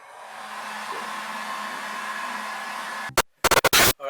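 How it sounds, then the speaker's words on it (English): A heat gun blows hot air onto vinyl being fitted to a Honda Civic Si wheel rim, a steady close whooshing hiss for about three seconds, then cut off by a few short choppy bursts. "it says here to use the heat gun"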